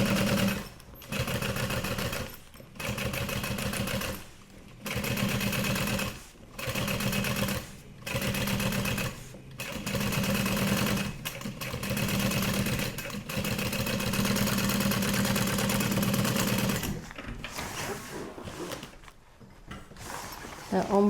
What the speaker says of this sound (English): We're top stitching an 1/8 inch away from this